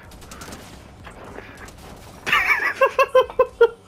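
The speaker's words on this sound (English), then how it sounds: "Say hello to my auto turret." An auto turret in a video game opens fire on a player partway through, with a rapid, evenly spaced string of sharp, loud shots that continues to the end.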